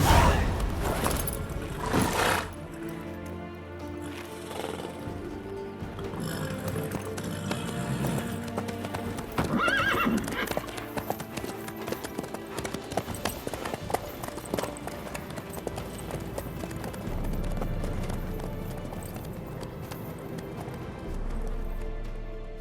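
Horse hooves clip-clopping along with occasional neighing in The Witcher 3, the rhythmic hoofbeats mixed with game ambience and rumbling effects throughout.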